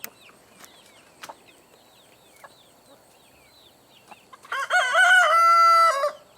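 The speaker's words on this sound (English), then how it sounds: "That's the younger rooster." A young rooster crows once near the end, a loud drawn-out harmonic call lasting about a second and a half, after quiet clucks and scattered clicks from a farmyard.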